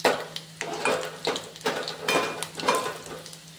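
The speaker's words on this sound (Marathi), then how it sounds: "लसूण थोडा लाल झाल्यानंतर आपण जिरे घालून घेऊ। लसूण आणि जिरे असे आपण लाल होऊन घेऊया।" Garlic and cumin seeds frying in a pan, with repeated scraping and clinking strokes of a spoon against the metal over a steady low sizzle, close and moderately loud, no talking.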